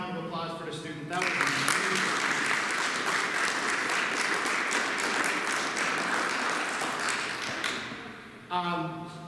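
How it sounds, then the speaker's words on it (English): An audience claps for a student after a wildfire presentation, a sustained burst of applause lasting several seconds, with a speaking voice briefly before and after it. "Can we have one more round of applause for the student?"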